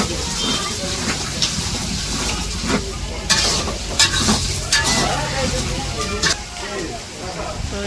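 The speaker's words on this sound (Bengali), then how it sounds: "কড়াইয়ের মধ্যে পেঁয়াজ কাঁচামরিচ সব দিয়ে দিচ্ছে।" Onions and green chilies fry in a large wok over a village fire for a feast, with steady sizzling and repeated stirring scrapes close by while people talk in the background.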